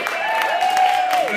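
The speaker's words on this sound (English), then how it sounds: "Please give this man, our sponsors, and yourselves a round of applause." At a burlesque show, the audience claps briefly while a high sliding whoop or whistle rises and falls over the clapping.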